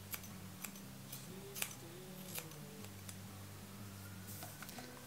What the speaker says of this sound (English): I hold it with my fingers, bring it down, and I trim straight up into that